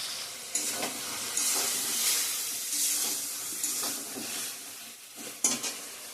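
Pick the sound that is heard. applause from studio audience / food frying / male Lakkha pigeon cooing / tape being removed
food frying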